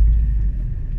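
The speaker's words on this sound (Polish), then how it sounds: "Auta." A car rumbling past on a road, a low, close engine drone that dips briefly midway and then carries on.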